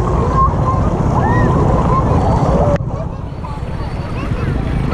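A small boat moves along a fast-flowing, clear river, its motor a faint hum buried under rushing water and wind noise on the microphone, with a voice speaking over it.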